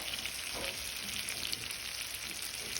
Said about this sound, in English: now we're gonna just saute this side a little